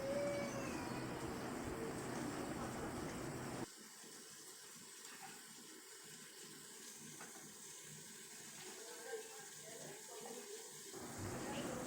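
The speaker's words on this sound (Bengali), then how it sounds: "মশলাগুলোকে নিয়েছিলাম সেটার মধ্যে জল দিয়ে দিলাম জল দিয়ে দিচ্ছি" Water poured into a pan of spices while cooking potol aloo, a soft, steady pouring flow that lasts several seconds, heard faintly over a low background hiss.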